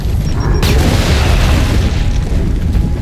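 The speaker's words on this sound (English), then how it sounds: "We gotta get a frag in there!" A frag grenade blasts in Gears of War 4, a loud, deep boom at the start rolling into sustained rumbling debris and low crackle that fills the rest of the moment, no talk over it.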